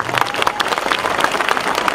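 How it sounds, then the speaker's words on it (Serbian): A concert crowd claps in dense, sustained applause, with many hands at once forming a steady, close wash of bright claps for the full two seconds, and a faint voice or two mixed underneath. "Hvala vam, veliki aplauz"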